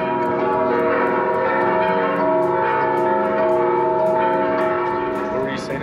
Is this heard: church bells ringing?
yes